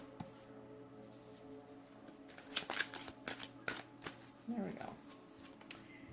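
Tarot cards being shuffled during a love reading, with soft, irregular riffling bursts and flicks of the deck at close range under quiet background hum.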